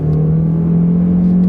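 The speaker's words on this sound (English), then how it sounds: "Ooh, it spun the tires." A small car with a poor transmission accelerates hard from a stop, its engine droning loud and steady from inside the cabin with a faint rising strain and no talk.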